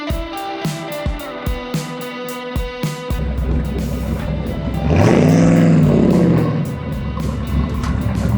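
A 1966 Corvette Stingray engine pulls up. A few sharp pops and clicks come first, then a loud, rumbling engine note that swells and revs before settling into a steady throaty idle, with no voices.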